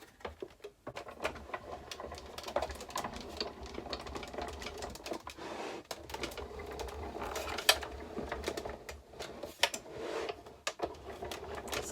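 A die cut machine presses T-shirt fabric with a quiet, rattling mechanical churn of rapid clicks and grinding, continuing unevenly throughout.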